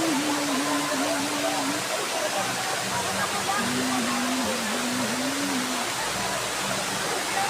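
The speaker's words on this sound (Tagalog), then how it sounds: "tatlong falls po ang mabagsak dito sa Nalalata" Nalalata Falls in Bula, Camarines Sur, one of three falls dropping here, gives a loud, steady broadband rush of falling water that fills the whole clip, with faint voices murmuring beneath it.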